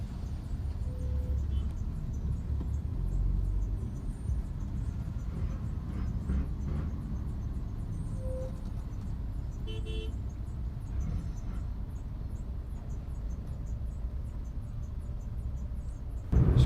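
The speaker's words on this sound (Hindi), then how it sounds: "हम लोग यहाँ पे कुछ टाइम के लिए ट्रैफिक जैम में फंसे हुए हैं" Road traffic jam on a route toward Gondal during a Somnath trip, with a steady dense rumble of idling and creeping vehicles and a few short car horn toots at scattered moments; no talk is heard.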